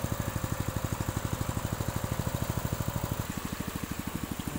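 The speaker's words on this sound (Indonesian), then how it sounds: "mesin sudah kita nyalakan" A farm water pump engine idles while irrigating a scallion field, running with a fast, even chugging beat that stays steady and close throughout.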